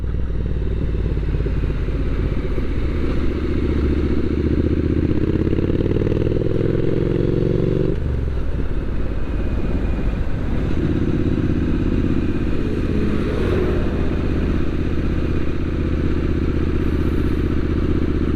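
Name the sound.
Triumph Street Scrambler 900 motorcycle riding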